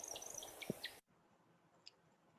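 Faint, high chirps from a woodcock in its display flight repeat in short bursts against quiet outdoor background, fading sharply midway, then a few isolated chirps follow.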